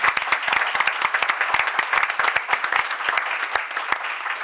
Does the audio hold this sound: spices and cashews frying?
no